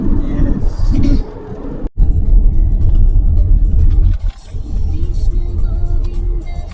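A car driving on a highway at night, a steady low road rumble and engine drone with a brief dropout and a passing dip, continuous throughout with no talking.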